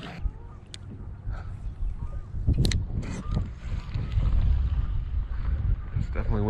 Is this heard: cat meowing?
no